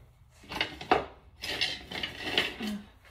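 Kitchen utensils clatter as a spatula is fetched while baking a vegan orange poppyseed cake. A few nearby bursts of metal and wood rattling and knocking come in quick, uneven clumps.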